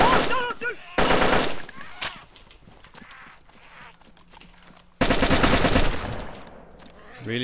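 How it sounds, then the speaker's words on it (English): Automatic gunfire in the DayZ Standalone survival game: loud, rapid bursts of shots in a multiplayer firefight, one burst at the start and another around the midpoint, with quieter in-game ambience and movement between them. "he just shot somebody"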